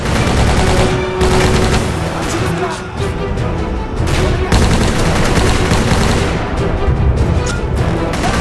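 Rapid gunfire from a History Channel World War II first-person shooter set in the Pacific Theater, loud sustained bursts of automatic fire with overlapping shots and brief pauses between volleys.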